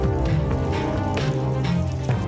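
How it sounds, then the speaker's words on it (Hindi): Heavy rain falling across Rajasthan during a storm, a loud, dense and steady wash of drops close by, with a low rumbling undertone and no voices. "राज्य के ज्यादातर इलाकों में तेज बारिश देखने को मिली"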